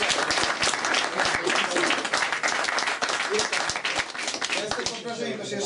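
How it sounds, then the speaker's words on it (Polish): A debate audience at a death-penalty debate claps in dense, sustained applause that runs almost without a break, close and loud, with a voice talking over it toward the end. "naprawdę brawa dla publiczności za aktywność"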